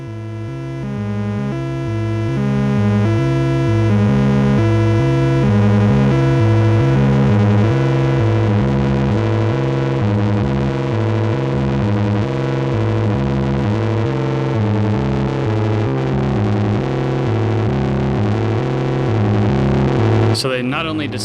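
A Mr. Furious Audio Mnevis Mk 1-A analog synthesizer pushed past its clean level into its mixer, producing a loud, sustained distorted bass pattern with stepped, repeating notes whose heavy low end overwhelms the tone, ending in a short noisy burst.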